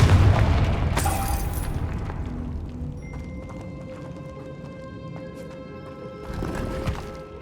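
A Confringo explosive spell goes off in the video game Hogwarts Legacy, with a loud close burst and rumbling boom at the start, followed by crackling debris and a sustained ringing tone as the blast fades.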